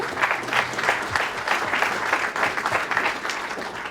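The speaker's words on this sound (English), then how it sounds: "so a round of applause for Malloy as well." An audience at a New Hampshire town hall in Concord breaks into loud, steady applause, a close, dense burst of many hands clapping without pause.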